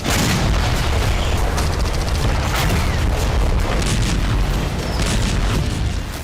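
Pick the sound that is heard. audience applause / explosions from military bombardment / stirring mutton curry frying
explosions from military bombardment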